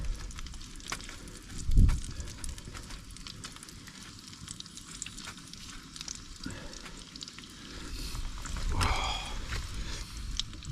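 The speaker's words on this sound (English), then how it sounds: "That's just starting to sizzle now." Food sizzles and crackles in a hot pan at an outdoor wild camp in Northumberland with a continuous hiss, with a few clattering knocks near the start and toward the end.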